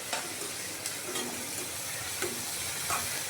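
A mother stirs a vegetable dish in a pan, a steady close sizzle of frying with scattered scraping and clinking strokes of the spoon, no talk heard.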